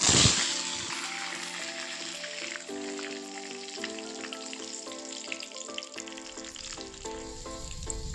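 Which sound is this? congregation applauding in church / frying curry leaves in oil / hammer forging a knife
frying curry leaves in oil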